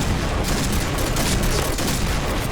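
Pistol fire in the online shooter Point Blank, a loud, steady barrage of overlapping shots and impacts packed into a couple of seconds with no talk.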